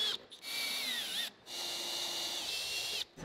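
A high-pitched power drill whines steadily in two long bursts on a crashed Mazda RX-8, close by, with a short pause between them and no talking.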